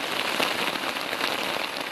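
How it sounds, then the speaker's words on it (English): A steady downpour of rain along a river near a banana-growing border area, a dense, even hiss of drops on surfaces with no breaks and no voices. "The journey upstream takes another hour as a downpour sets in."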